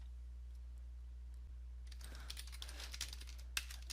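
Fingers typing on a computer keyboard, with a quiet start that gives way to a close burst of rapid clicking keystrokes from about halfway through.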